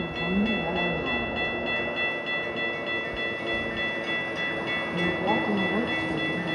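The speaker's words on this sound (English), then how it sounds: "Milwaukee North train number 2147 to Fox Lake is now arriving." A Metra Milwaukee North commuter train arrives at Lake Cook Road station in a blizzard: a steady, loud rumble with high whining tones, and a voice speaks over it.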